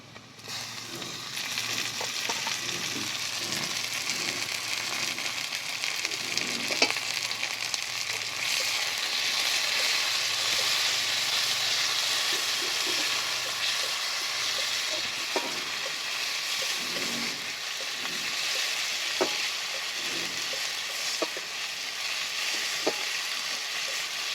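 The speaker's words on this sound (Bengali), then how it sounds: "কেটে রাখা টমেটো ভালো করে ভেজে নেব।" Tomatoes sizzle and fry steadily with onion in a pan for a long stretch, with occasional stirring clinks and scrapes and no talking.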